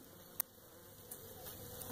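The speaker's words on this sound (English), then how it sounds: "I got a little bit of bees up in here." A faint, steady buzz of honey bees comes from a small, struggling hive weakened by viruses and heavy mite load, with a few soft clicks over the hum.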